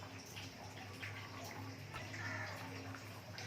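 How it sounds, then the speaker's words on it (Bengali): Water is poured into a pot of rohu fish curry with green mango, making a steady, soft splashing gurgle throughout, fairly quiet and close. "আমি এখানে টোটাল 4 কাপ জল ব্যবহার করছি।"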